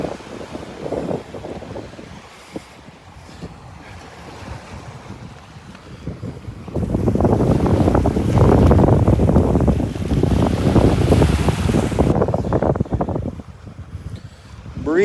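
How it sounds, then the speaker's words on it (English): Gusty wind roars across a beach pass on the North Naples, Florida shore, swelling into a loud, sustained rush of microphone buffeting midway before easing back, with no one talking. "Breezy up here. Breezy up at the pass."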